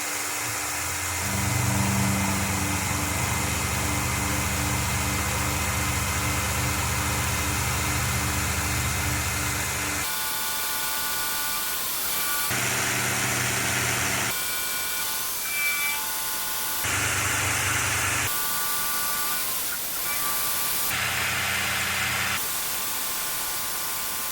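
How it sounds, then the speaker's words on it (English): A CNC mill on a Long-EZ N916WP aircraft parts job shaves about 30 thousandths with a regular large end mill, giving a steady loud whirring cut, then after a pause a series of separate bursts of machining noise. "Start out with a regular large end mill, and just try to shave off about 30 thousandths."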